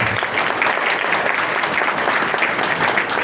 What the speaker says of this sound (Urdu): اپنے لیے زوردار تالیاں بجائیے۔